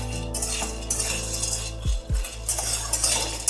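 A metal spoon scrapes and clinks steadily against a pan while pasta is stir-fried on a low flame for kheer pasta, close and continuous with a faint sizzle beneath.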